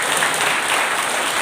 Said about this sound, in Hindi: एक साथ ताली बजा दीजिए।